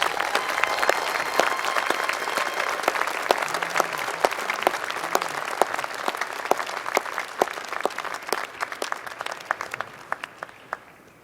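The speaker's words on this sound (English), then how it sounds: "Please join the Dean in a round of applause for all our doctoral degree recipients." Commencement audience gives a sustained round of applause for doctoral degree recipients, dense clapping from a large crowd that gradually thins and fades near the end.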